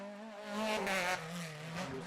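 A Peugeot 106 rally car on a Critérium des Cévennes stage passes with a strained, revving engine note that swells briefly, then settles at a moderate distance, with no one talking.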